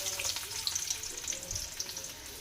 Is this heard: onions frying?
yes